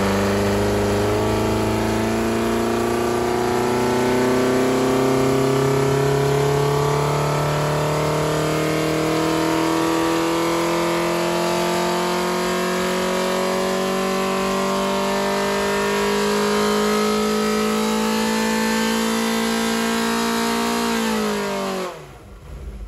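A 2.1-litre Pinto engine with a big valve head, RL31 camshaft and twin 45 DCOE Weber carburettors revs on a dyno, its loud tone climbing steadily for about twenty seconds before the throttle snaps shut and it winds down.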